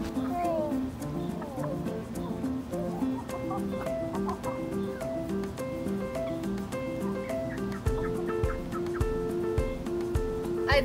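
Backyard chickens being fed almond crumble treats cluck and murmur busily at close range. Soft pecking taps sound toward the end, and people talk quietly underneath.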